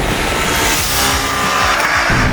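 A 2024 KTM Duke 250 motorcycle engine pulls hard toward the top of its rev range, a loud, continuous, buzzing roar with steady wind noise and no pauses.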